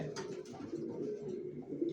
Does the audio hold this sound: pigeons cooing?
yes